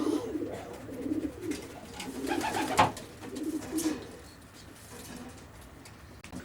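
Racing pigeons coo softly in a loft, several low throaty calls rising and falling at a moderate distance, fairly quiet.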